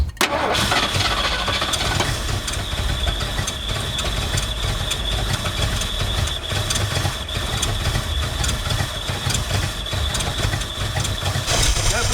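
A 1979 Ford F150 pickup with a modified 351 V8 engine fires up and runs loud and steady from close range, a continuous low rumble with rough mid-range roar, no speech over it.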